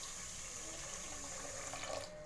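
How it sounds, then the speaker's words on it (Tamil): Water pours from a tap into a pot of lentils (paruppu) before pressure cooking, a steady continuous rush that stays constant and fairly quiet for a couple of seconds. "இப்போ பருப்பு வேகிற அளவுக்கு நம்ம தண்ணி ஆட் பண்ணிக்கலாம்."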